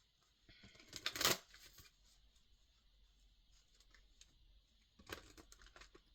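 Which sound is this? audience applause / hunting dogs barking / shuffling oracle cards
shuffling oracle cards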